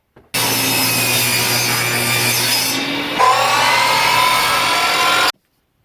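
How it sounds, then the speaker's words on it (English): A wooden tooth for a tablesaw box joint jig is sanded by hand to fit, a steady rasping stroke lasting about five seconds up close, with a brief shift in tone midway and no talking. "If it's too tight, sand it down until it fits."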